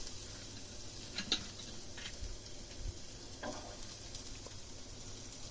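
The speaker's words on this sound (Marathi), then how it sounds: "तेल टाकून झालं की कांदा टाकायचा." Sliced onion fries in hot oil in a pan for Kolhapuri misal, giving off a faint, steady hiss with a few small ticks and pops.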